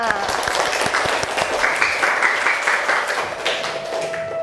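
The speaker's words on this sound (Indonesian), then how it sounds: "Beri tepuk tangan untuk kita semua." A classroom of students claps together, a loud dense burst of applause from many hands held for several seconds, with a faint tone and some voices beneath.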